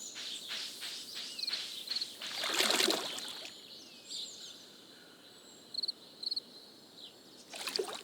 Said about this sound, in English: Oh, you can hear those crickets chirping right here.